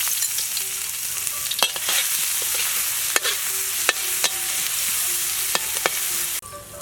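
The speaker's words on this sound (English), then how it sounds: "And now I start to cook. Soybean oil," Beef, chopped garlic and soybean oil frying in a pan for a stir-fried leek dish, a loud, steady sizzle broken by sharp spatula scrapes and clacks, with no voices.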